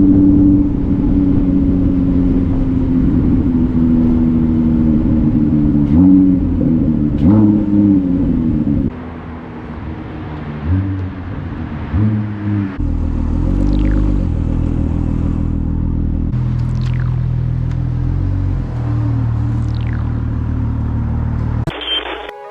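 A Ford GT engine and exhaust rumble loudly and up close, idling with a deep drone and rising in a few revs, with no speech.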